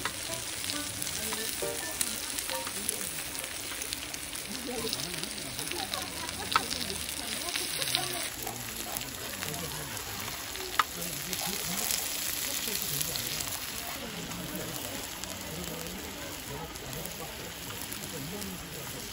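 Meat grilling beside a river, a constant dense sizzle and crackle close by with occasional pops, while people chat in the background.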